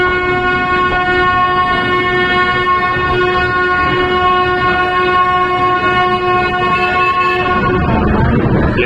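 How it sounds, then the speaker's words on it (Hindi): Lucknow Mail express train arriving at New Delhi railway station, a loud sustained horn blaring for several seconds over the steady rumble of the rolling carriages, with the noise swelling near the end. "Finally, we are arriving at New Delhi railway station"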